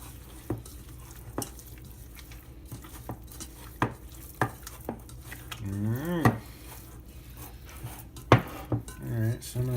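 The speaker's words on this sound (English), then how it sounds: "I'm going to mix the other half and then we will see how this turns out." Ground squirrel chorizo meat mixed with a spice blend in a bowl, with repeated clinks and scrapes of a utensil against the dish and soft squishing, plus brief bits of a voice.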